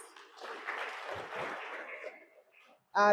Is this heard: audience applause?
yes